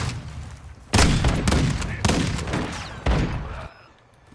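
Rapid bursts of heavy gunfire in Modern Warfare 2, with several loud, dense volleys separated by short gaps and a quieter tail at the end.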